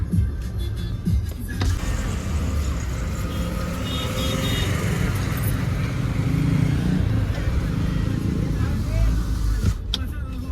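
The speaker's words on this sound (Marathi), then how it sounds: "बेकार ट्रॅफिक आहे सगळीकडे आज." Heavy road traffic in Bhiwandi: a continuous low rumble of cars and motor vehicles passing close by, with engine drone and occasional rattles filling the whole stretch.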